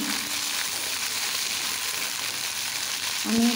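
Red amaranth stalks and other vegetables sizzle steadily in a hot pan while being stirred, a close, even frying hiss that continues throughout with no voices.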